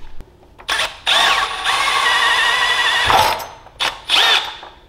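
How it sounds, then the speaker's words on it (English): A loud power drill whines in bursts, spinning up and down several times with short pauses between, close by, drilling a hole out to 1/4 inch in a small 5-7hp surface drive boat engine block. "Bam! Drilled it out."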